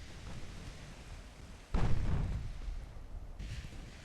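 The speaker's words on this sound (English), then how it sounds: "Making smoke and torpedoes away." In the Ultimate Admiral naval battle game, torpedoes launch from a ship with a sudden heavy whoosh and rumble that swells and slowly fades, followed by a softer second burst, with no voices.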